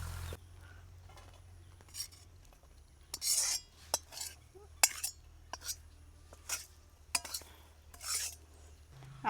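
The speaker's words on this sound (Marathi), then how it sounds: "कढई खाली घेऊ उतरून आता." A kadhai of wild monsoon greens is lifted off the stove, giving a string of sharp metallic clinks and scrapes spaced irregularly over a low steady hum, with no talking.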